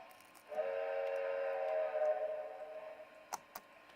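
A sustained model train whistle sounds for about two and a half seconds, steady and fairly loud, then fades, followed by two brief sharp clicks.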